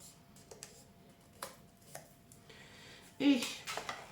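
Paper for a junk journal page is folded into a crease, giving a few faint taps and soft rustles before a louder, close crinkling swish near the end.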